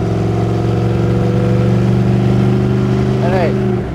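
A classic Ford with a MagnaFlow exhaust and electric cutouts idles and revs with a loud, steady, deep rumble close by, its pitch shifting slightly near the end as a voice briefly cuts in.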